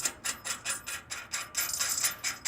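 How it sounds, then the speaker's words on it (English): Metallic ratcheting as a nut and washer are tightened onto a bolt for a trailer spare tire mount on the tongue, quick regular clicks repeating steadily and close. "I'm going to go ahead and get the nut and the washer on."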